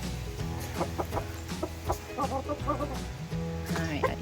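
Chickens cluck in short bursts close by, with a rooster's calls mixed in over steady farmyard background noise.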